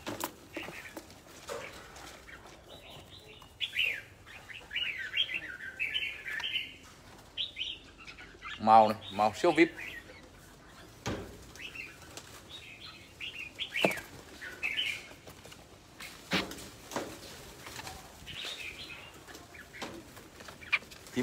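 Birds chirp and flap their wings in short bursts, close by, while someone talks over them.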